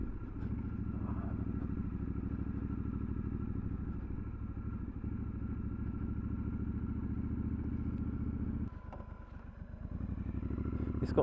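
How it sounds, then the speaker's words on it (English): A Triumph Scrambler 1200XE motorcycle riding over a bridge produces a steady, low engine rumble with a brief dip near the end, then the drone returns. "this bridge we're going over"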